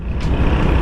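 A large truck idles at a petrol station, a loud, close, rumbling engine with a brief hiss partway through.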